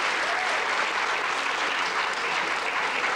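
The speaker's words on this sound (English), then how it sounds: "So put a little applause" Audience applause at a film-night event at Copia in Napa, a steady, dense wash of clapping that holds evenly throughout, fairly loud and uninterrupted.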